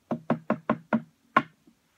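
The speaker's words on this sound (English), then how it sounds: "Then Robin Hood knocked on the door." Six sharp knocks land on a wooden door in a quick, fairly even series, the last one after a slightly longer pause. They are close and clear against silence.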